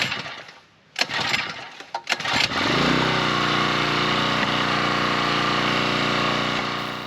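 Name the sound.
Champion 7 ton log splitter engine running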